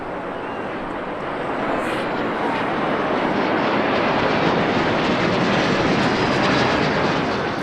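Aerobatic team jets at an airshow in Sichuan roar steadily overhead as they approach for the final break, a loud, continuous broadband engine rush that swells slightly and holds with no gaps.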